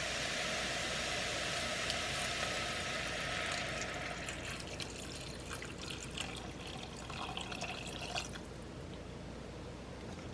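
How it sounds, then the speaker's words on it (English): Two cups of water pour into a pot of butter bean soup with sausage and rosemary, a steady close splashing and gurgling stream that thins toward the end, with no talking. "And now my 2 cups of water."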